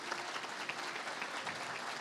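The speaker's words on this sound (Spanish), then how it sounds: "un aplauso para ti" An audience applauds at a presentation event, a soft, even patter of many hands clapping continuously, heard faintly and at some distance with no voices over it.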